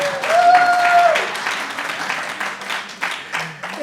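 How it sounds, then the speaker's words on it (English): Conference audience applauding for several seconds, a dense, steady patter of clapping that starts strong and gradually thins, with a brief tonal whine near the start. "I think we should give Greg a round of applause for putting this together."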